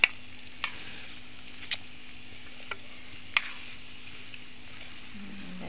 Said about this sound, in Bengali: এভাবে করে আমি গোলাপগুলো ভেজে নিচ্ছি।